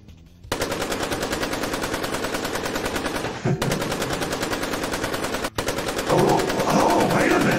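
Automatic gunfire in a VRChat game scene, long sustained bursts of rapid shots with a couple of brief pauses, loud and dense.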